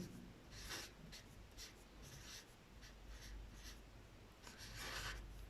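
A pen scratches across paper while lengths are written down in a classroom lesson on measuring with fingers and hand spans: a run of close, short scratchy strokes in irregular bursts, with no talking.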